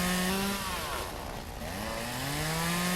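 A chainsaw in the video game Lumberjack's Dynasty revs and whines steadily in the rain, pitch dipping briefly as it bites into wood before climbing again; loud and close.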